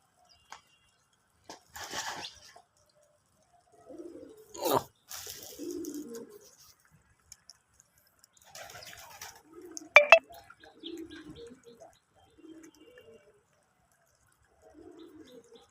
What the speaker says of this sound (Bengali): দেশি কবুতর খামার